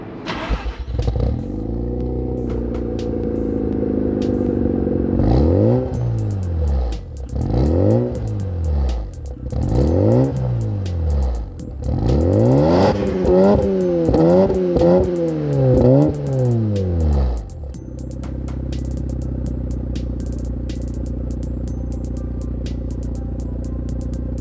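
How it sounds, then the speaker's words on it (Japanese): A sunburst-yellow final sixth-generation Mazda RX-7 Type R Bathurst R with a large Apex exhaust and Mazdaspeed underbody bracing revs about six times in close succession, each rev rising and falling sharply, then settles into a steady idle. No one speaks. "アペックスのマフラーも太いね。 これね、いい音するんじゃないかな"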